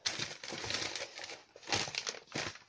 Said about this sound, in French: Donc voilà, je remets tout dans l'enveloppe.